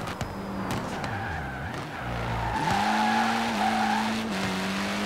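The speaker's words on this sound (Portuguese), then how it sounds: "Eu vou fazer uns drifts com ele aqui" A Ford Focus Hoonigan drifts in Forza Horizon 4, its engine revving while the tyres squeal and skid in long sliding bursts, loud and close with no talk.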